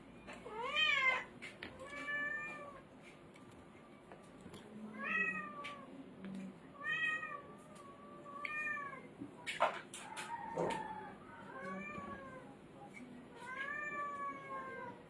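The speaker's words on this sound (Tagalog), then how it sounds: "Ate, yung pusa!" A cat meows repeatedly, around eight rising and falling cries spread at irregular intervals, moderately near. Faint household clatter and a low background hum run underneath, with no clear speech over it, in a Filipino home kitchen at mealtime.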